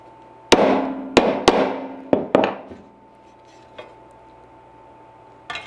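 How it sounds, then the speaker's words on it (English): A hammer drives a wooden block against a powder-coated snowmobile part during a repair, giving five or six sharp, ringing knocks at uneven intervals, close and loud, then a few fainter taps with steady hum in the background. "I'm just gonna use a wooden block right here and one of my nice hammers, not my metal hammers"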